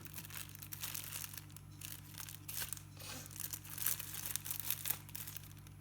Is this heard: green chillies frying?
no